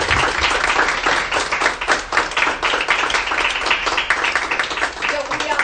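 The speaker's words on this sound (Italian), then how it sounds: "a cui facciamo un grande applauso." Dense, steady applause from an audience at a book presentation, many hands clapping continuously and close for several seconds with no pause.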